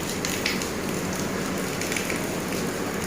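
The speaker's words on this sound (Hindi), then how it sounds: "कैसी बारिश हो रही है पता ही नहीं।" Rain falling outdoors during a sunny shower, a steady dense patter on surfaces, even and continuous with no voices.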